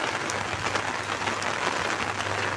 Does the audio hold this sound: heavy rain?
yes